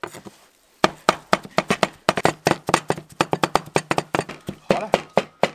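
Meat being chopped with a cleaver on a board, a rapid run of sharp, loud, close blows in an irregular rhythm after a short quiet start.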